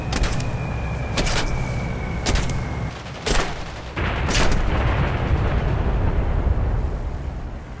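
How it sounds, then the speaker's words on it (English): Bombs dropped from an aircraft in War Thunder, a series of sharp explosive cracks and booms over a loud steady engine roar, the blasts coming irregularly and then fading into continuous rumble. "Drop all the bombs!"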